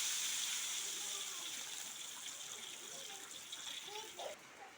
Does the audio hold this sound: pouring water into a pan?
yes